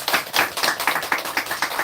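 A church congregation claps together for their pastor after a Sunday sermon, a brisk, fairly loud run of overlapping handclaps lasting under two seconds with no voices over it.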